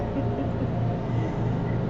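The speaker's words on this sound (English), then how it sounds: "We have the lawn service outside. It's about to get really loud." Steady, droning engine noise from outdoor lawn machines runs throughout, a constant low rumble with no breaks.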